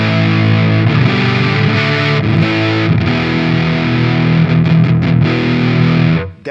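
Electric guitar through an ML Sound Lab Volcano amp plugin modeled on a Soldano SLO and Astro 20, set to a crunch preset with thick breakup: dense distorted chords ringing loud and continuous, then a quick flurry before stopping abruptly.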